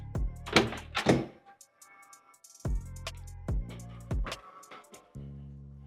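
Large 8-foot front door of a house being opened, a series of solid thunks and latch clacks with short pauses between, close and moderately loud with no talking.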